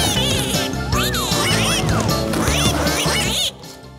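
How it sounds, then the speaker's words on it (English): Rapid, overlapping cartoon duck quacks burst out loudly over lively music, repeated many times in a busy, cheerful jumble. "Let's give a warm round of quacks for the Daredevil Ducks!"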